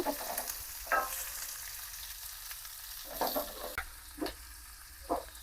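Onions frying in a pan for North Karnataka style karchikayi fry, a soft steady sizzle with a few brief stirring scrapes, close and quiet, no talk.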